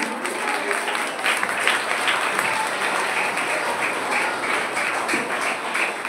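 Applause from a crowd at a school workshop's lamp-lighting ceremony, a steady patter of many hands clapping at moderate loudness, lasting throughout with faint voices behind it.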